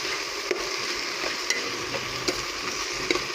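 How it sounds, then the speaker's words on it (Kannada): Cabbage palya being fried and stirred in a pan until golden, with a steady sizzle and occasional scraping clicks of a spatula, no talking. "ಅಂದರೆ ಗೋಲ್ಡನ್ ಕಲರ್ ಬರೋವರೆಗೂ ಹುರ್ಕೊಳ್ಳೋಣ"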